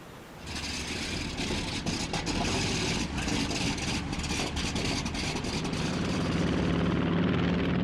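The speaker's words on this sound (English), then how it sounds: "the American bomber Enola Gay flies towards the Japanese archipelago" The American bomber Enola Gay, a propeller aircraft, flies toward Japan in 1945, heard as a continuous loud, droning engine roar that holds steady and slightly swells throughout.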